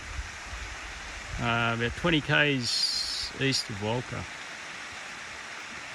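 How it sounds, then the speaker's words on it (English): Apsley Falls in the Apsley River gorge gives off a steady broadband rush of distant falling water that runs throughout, with someone speaking clearly over it for a few seconds. "This is Apsley Falls"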